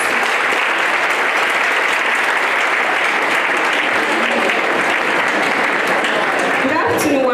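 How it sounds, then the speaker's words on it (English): Steady, loud audience clapping continues without a break at a live event honoring Joseph Akambarabuk Abula, a thick wash of hands with faint voices and cheers underneath, a brief louder burst near the end. "Keep clapping."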